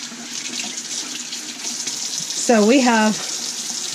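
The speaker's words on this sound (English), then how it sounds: "Running water, cold water for now." Cold water running steadily from a faucet in a remodeled RV, a constant hiss across the clip, with a person briefly speaking over it near the end.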